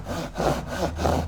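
A Japanese pull saw cuts through wood in close, rhythmic strokes, roughly four rasping passes in just over a second, clear and up close.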